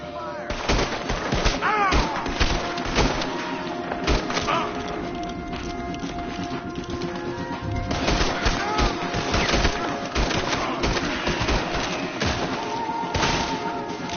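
Rapid bursts of gunfire from a Red Dead Redemption 2 shootout, loud and repeated volleys with thuds throughout, with voices talking over parts of the action.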